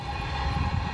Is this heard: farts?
no